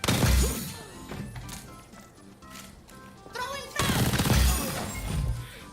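Bursts of first-person shooter gunfire in a video game, loud crashing volleys at the start and again near the end, with quieter clatter and game sounds between them and voices running underneath.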